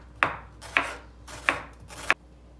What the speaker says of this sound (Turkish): Öncelikle soğanları ince ince dilimleyerek başlıyorum.